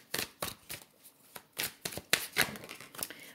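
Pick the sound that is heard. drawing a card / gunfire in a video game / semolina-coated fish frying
drawing a card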